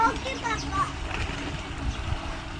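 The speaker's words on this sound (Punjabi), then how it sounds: "ਬੱਚੇ ਨਹਾਉਣ ਡਏ ਆ" Children bathing in water at a farm pump outlet splash and slosh in irregular bursts, with young voices and nearby chatter mixed over the watery noise.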